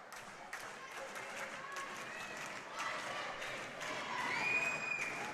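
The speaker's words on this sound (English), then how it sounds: "As community crowd comes to life." A community crowd at a varsity volleyball game claps and cheers in a gym, a dense wash of noise that swells toward the end, with sneaker squeaks cutting through and a voice talking over it.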